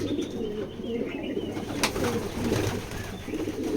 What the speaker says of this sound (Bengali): খুবই সুন্দর ব্যালেন্সের কবুতর